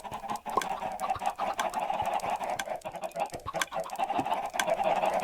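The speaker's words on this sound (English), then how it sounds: "I have a chicken farm." Blocky video-game chickens cluck steadily on a farm built with a clock circuit, transparent blocks and an egg hopper, several birds overlapping in a busy, continuous chorus without any talk.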